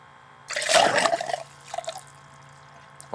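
A low-power airlift geyser pump surges, pushing out a burst of water that gushes and splashes for about a second, then trickles and drips more quietly.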